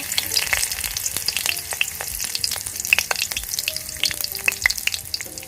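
A few bay leaves fry in hot oil, a dense crackling sizzle with sharp pops and spits scattered throughout, close and steady, with no voices.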